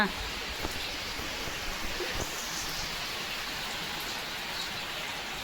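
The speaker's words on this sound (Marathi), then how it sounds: "कंटाळा आलाय पावसाचा" Steady rainfall patters on surfaces in an even hiss with a few louder drips, while faint voices come and go beneath it.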